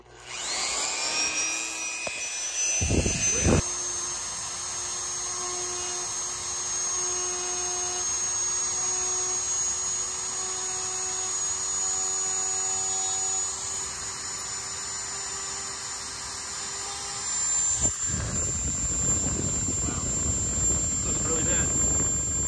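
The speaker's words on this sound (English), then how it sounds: "I'm going to carve that in there with my Dremel tool." A Dremel rotary tool whines at a high steady pitch while carving a signature into a handmade pistol ring, starting after a few seconds, running continuously and stopping near the end, with some handling noise.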